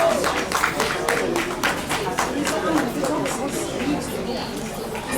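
An audience at a women's leadership awards breakfast applauds an award recipient. Steady, continuous clapping from many hands fills the room, loud and close, with faint crowd murmur underneath.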